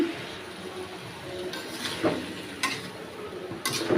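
Fish, potatoes and eggplant sizzle softly in a pan, a steady low frying hiss broken by a few sharp stirring clinks and scrapes of a utensil.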